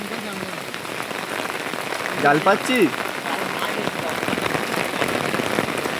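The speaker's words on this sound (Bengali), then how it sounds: "পুরো মানে হেভি বৃষ্টি হচ্ছে" Heavy rain pours down steadily outdoors, a dense, continuous hiss of drops striking surfaces, with a few voices speaking briefly over it.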